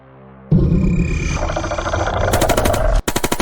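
Gunshots fired at an anaconda in a cinematic AI-generated jungle movie: a loud burst of rapid shots starts abruptly, dense and continuous, then a brief cut and further sharp repeated cracks close up, with no talk.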